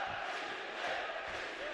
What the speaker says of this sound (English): You can hear the crowd behind me cheering his every move.